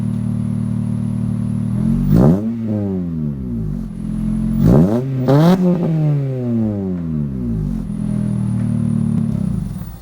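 A car engine idles with a deep exhaust note, then revs sharply three times, each rev climbing and falling back to a rumbling idle.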